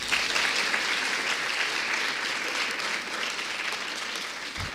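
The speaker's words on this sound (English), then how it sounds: "Another round of applause." An audience applauds in a steady, dense wash of clapping that holds for several seconds at a moderate level, then tapers slightly.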